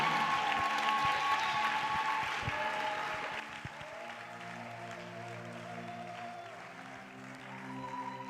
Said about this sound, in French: Applaudis très bien le Seigneur des Seigneurs.